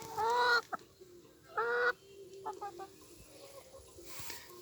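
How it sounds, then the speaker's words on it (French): Backyard hens in summer cluck and squawk in two loud, drawn-out bursts, close by, followed by softer scattered clucks. "Oui, salut les poules."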